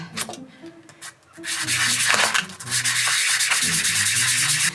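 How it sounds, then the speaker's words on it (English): 400 grit sandpaper rubs over a metal waffle surface. A few light strokes are followed by a long, loud, continuous scratchy rasp, close by, with no talking. "So I've got some 400 grit sandpaper."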